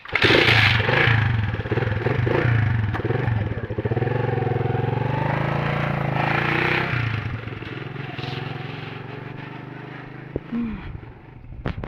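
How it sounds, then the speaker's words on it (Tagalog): A motorcycle engine drones loudly nearby with shifting revs and some rattling, gradually easing off toward the end. "sumakay na ng motor"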